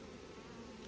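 Honeybees buzzing on a brood frame: a steady, dense hum from a close mass of bees that holds even and unbroken throughout.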